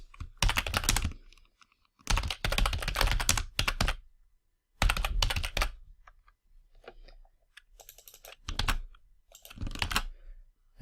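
Bursts of rapid clicking keystrokes on a computer keyboard as a template name is typed, close and clear, coming in several separate runs with short pauses between them.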